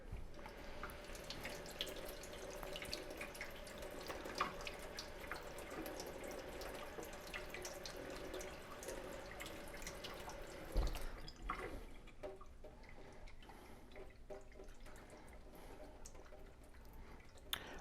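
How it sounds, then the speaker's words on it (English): Water running and splashing as sprouting seeds are rinsed in a jar and drained at an indoor garden sink, a steady close trickle for most of the time, then a sharp knock and softer drips toward the end, without any speech. "by shaking it like this, we're making sure that every single seed gets rinsed off and they're not clumped together"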